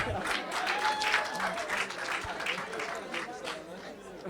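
A crowd claps at a comedy show, with dense, sustained applause holding steady throughout and lively noise mixed in.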